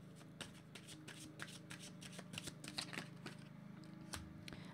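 Tarot cards are shuffled close by in a quiet room, making a steady run of soft riffling and slapping flicks with no talking.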